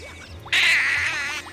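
A voice makes a loud, raspy Donald Duck-style quack, imitating a duck, held for about a second after a faint moment of quiet.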